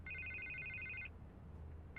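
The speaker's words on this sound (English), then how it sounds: "I can't get the phone to stop ringing." A telephone rings in the Batman game: one electronic ring lasts about a second, then a short pause, and the next ring begins. It is fairly quiet and steady, with no voices.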